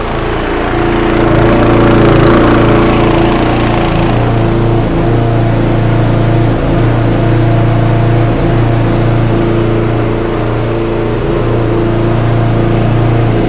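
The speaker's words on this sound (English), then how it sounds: "So Tom's just going to start the engine up." A farm bowser's engine runs loud and close with a steady, even drone and faint rhythmic knocks, holding constant throughout with no talking.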